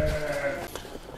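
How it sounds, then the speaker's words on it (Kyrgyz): A healthy female lamb gives one close, wavering bleat that fades out after about two thirds of a second, followed by faint farmyard background. "Мына эсен ургачы козу."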